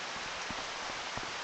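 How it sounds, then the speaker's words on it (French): Rain falling steadily in a dense, even hiss, with a few louder drops pattering close by and no voices. "ça c'est la pluie"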